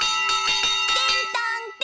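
A big cartoon fire engine bell rings in a quick run of bright, metallic strikes that sustain and ring out, loud and close, with no talk over it.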